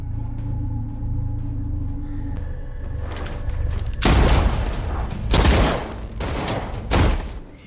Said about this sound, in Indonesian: Priscilla yang sudah menodongkan pistolnya ke kepala Lucky dengan mengejutkan berbalik dan malah menembak perut Wayne.